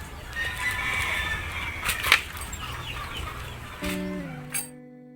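Free-range farm chickens cluck and squawk in a busy, steady chatter, with a brief flutter of wings and a faint tone near the end.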